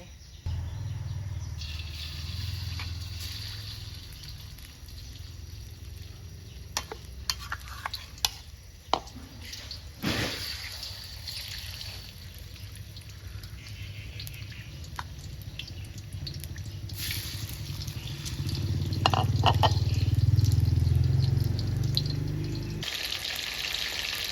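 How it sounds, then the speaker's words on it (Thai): Marinated chicken sizzles and crackles steadily in hot oil in a pan, with occasional clinks and scrapes, and the frying swells louder toward the end. "เดี๋ยวรอน้ำมันร้อน เดี๋ยวเราจะใส่ไก่ที่เราหมักไว้เมื่อกี้ลงไป"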